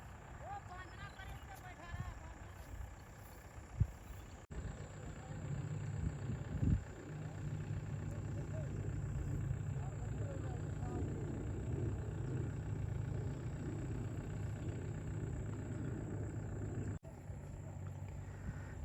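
A tractor engine hums at a low, steady idle aboard a river ferry carrying fertilizer sacks, a faint, continuous rumble with people talking over it.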